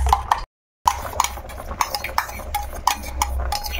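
Egg being stirred with black salt and chili powder in a bowl, a series of quick clinking utensil strokes against the dish with a short silent gap early on, close and fairly loud.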